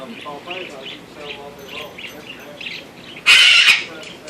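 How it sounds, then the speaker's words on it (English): A pet parrot lets out one sharp, loud squawk near the end, following a stretch of soft chattering vocal sounds. "I have a parrot."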